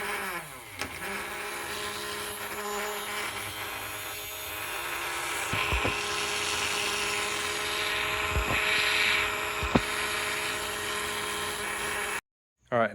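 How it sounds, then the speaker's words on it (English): A small DC motor runs at 5 volts off a homemade boost converter on a desk, giving a steady high-pitched whirring hum for about twelve seconds, with a few faint clicks, before it cuts out abruptly. "So I'm gonna test it with a motor,"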